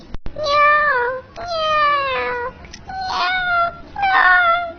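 A cat meows four times in drawn-out, plaintive calls, close and clear, with short pauses between each and a click at the start.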